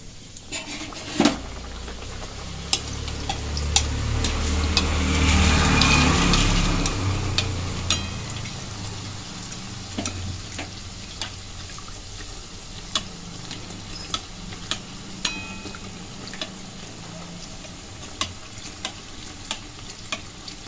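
Dhakai paratha sizzles and fries in hot oil in a pan, a steady crackling hiss that swells mid-clip, punctuated by sharp ticks and taps of a utensil against the pan.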